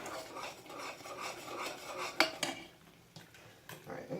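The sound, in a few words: stirring brown sugar into condensed milk in a pot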